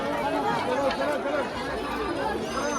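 Dense crowd chatter at a busy Mhasa Jatra fair market, many overlapping voices forming a loud continuous babble close around.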